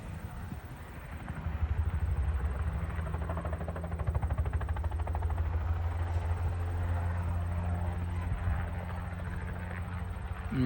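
Helicopter spraying fertilizer over a corn field, with a steady, loud rotor and engine roar and rapid blade chop throughout, close by.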